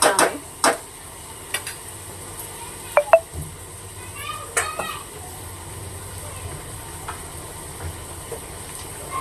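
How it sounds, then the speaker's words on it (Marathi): Chopped onion frying in a pan over a high flame, being cooked until reddish: a steady broad hiss runs throughout, broken by a few sharp clicks and stirring knocks, with a voice faintly in the background. "तर कांदा ना छान असा लालसर मोठ्या फ्लेमवर"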